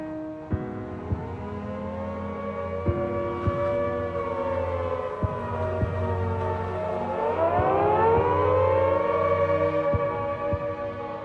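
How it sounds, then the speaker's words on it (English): A Blitz-era air raid siren wails steadily, its rising and falling tone sustained throughout, with occasional sharp thumps underneath. "Every time I heard the siren go, my stomach turned over."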